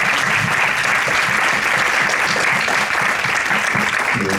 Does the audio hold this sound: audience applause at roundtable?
yes